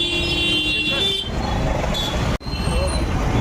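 Road traffic moves through heavy rain, with a steady wet hiss, engines rumbling and a horn tooting early on, then a sudden brief dropout before the roar resumes.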